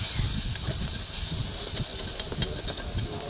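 Garlic, onion and tomato sauté in a hot pan, a steady close sizzle and hiss throughout with no talk.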